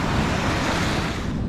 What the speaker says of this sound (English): We've got quite a few waves coming